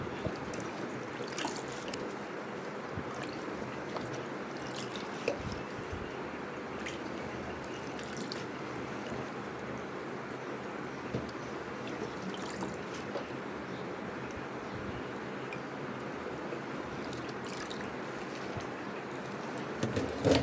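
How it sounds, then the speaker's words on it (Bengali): Water runs steadily while pumpkin greens are rinsed in a home kitchen, a continuous trickling and splashing stream at moderate distance with no talk over it. "কুমড়োর শাকটা ধোয়া শেষ"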